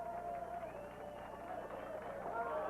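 Crowd at a 1991 candlepin bowling championship roaring in a sustained, dense cheer that fills the whole moment, with no clear single voices rising above it.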